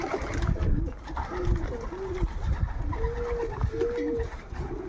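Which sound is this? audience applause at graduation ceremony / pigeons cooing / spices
pigeons cooing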